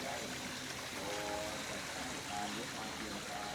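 Water trickling and splashing steadily from decorative Chinese zodiac statues at a temple, a soft continuous flow under faint background voices and distant ambience.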